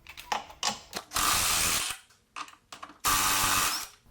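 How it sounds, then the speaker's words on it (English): A ratchet removes 18mm nuts under a C5 Corvette: sharp clicking strokes alternate with two long, loud spells of rapid ratcheting, close and free of speech. "First thing we're going to do is remove these two 18mm nuts on the bottom."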